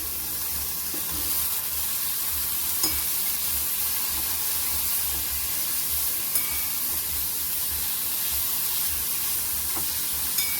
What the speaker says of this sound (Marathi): आता ज्या शेंगा आहेत आपल्या त्या घालायच्यात आपल्याला आणि छान अशा कोवळ्यात ह्या डिंगऱ्या तर आपण छान अशा परतून घेऊया त्याला